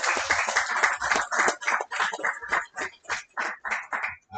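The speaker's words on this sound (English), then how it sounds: "But give her a big round of applause anyway, Monica Fields." Applause at a barber bootcamp graduation ceremony: a crowd claps in rhythmic bursts, loud at first and then breaking into separated clusters of claps that taper toward the end.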